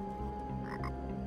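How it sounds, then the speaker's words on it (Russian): A frog croaks in the video game Tower of Time, two short throaty calls at a moderate level over a steady background music bed. "На разломанной плите наш отряд видит маленькую оранжевую лягушку."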